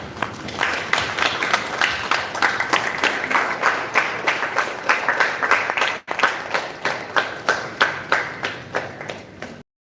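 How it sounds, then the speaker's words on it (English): An audience at a hospital award ceremony claps in a rhythmic, unison beat, steady and close, breaking briefly midway before resuming and stopping abruptly. "can we all get up and give a big thank you and an applause for Sumedha"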